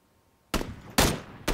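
Three sharp, loud gunshots in PUBG, close by and separated by short gaps, ringing out against near silence.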